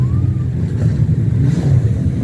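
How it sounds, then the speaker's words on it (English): Peterbilt semi-truck with an unrestricted straight-pipe exhaust and straight header revving at a Scottish raceway, a steady loud low-pitched roar held close and constant throughout, with no talk. "That's a straight pipe, that's a straight header, it just sounds as basically exhaust gas is just going to come out there."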